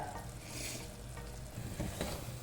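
Mutton curry masala with pepper, green chilies and garam masala sautéing in a pan, a steady low sizzle with scraping stirs, alone and without voices.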